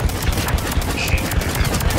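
Rapid automatic weapon fire from Mass Effect 3, a steady stream of loud, evenly spaced shots running continuously with heavy low thumps, with no talking over it.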